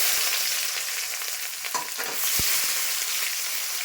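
Onions hitting hot oil already tempered with cumin and bay leaves, for a jackfruit and shrimp curry, sending up a loud, dense, continuous sizzle with a spatula scrape and a single low knock against the pan.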